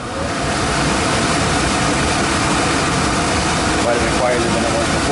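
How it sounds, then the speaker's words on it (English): A Lennox HVAC blower motor running after a blower wheel replacement, a loud steady broadband rumble and whoosh of moving air, close and continuous with no change throughout. "we're just waiting for the blower motor to start back up again"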